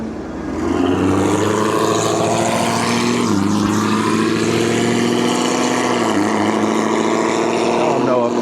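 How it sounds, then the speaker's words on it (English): Loud, steady exhaust drone from the muffler of a red Chevrolet Camaro, close by and continuous for several seconds with a deep rumbling roar that never lets up. "Muffler sound from that red Camaro is picked up on my mic."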